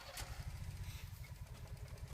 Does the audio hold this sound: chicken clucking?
no